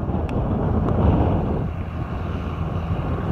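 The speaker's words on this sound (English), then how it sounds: "It's very, very windy again, but not a lot else we can do." Strong wind blowing outdoors on open farmland, a steady loud roar with heavy microphone buffeting that rises and falls throughout, with no talk.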